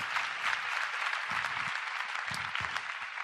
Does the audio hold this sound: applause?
yes